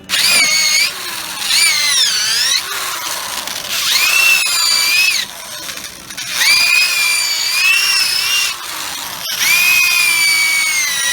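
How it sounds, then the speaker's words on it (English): A power drill bores out a steel rear control arm bushing on a GM vehicle, loud whining in long bursts that rise and drop in pitch as the bit bites, with brief pauses between runs. "we're just trying to just drill it out in little pieces"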